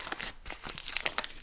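Crinkly paper wrapper being peeled off a stick of unsalted butter, a close, brief run of rustling and tearing with no talk.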